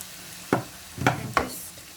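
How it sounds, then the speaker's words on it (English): Vegetables stir-fried in a pan, heard as three quick scraping stirs spaced about half a second apart over a faint steady sizzle, close and fairly quiet. "So I'll stir fry them for a few seconds."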